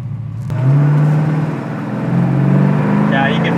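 A classic car with six-pack carburetors accelerates from inside the cabin, a loud low engine drone rising and holding steady, then climbing again, as people talk over it.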